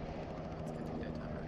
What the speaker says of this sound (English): Chopper fleeing to the northeast.